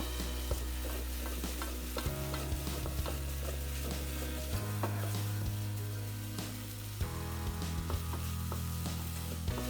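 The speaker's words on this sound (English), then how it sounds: "I continuously sauteed it to avoid the lady's finger from sticking to the pan" Okra (lady's finger) being sautéed continuously in a pan: a constant frying sizzle with frequent rhythmic scrapes and knocks of the spatula, over a low steady hum from a nearby appliance, no speech.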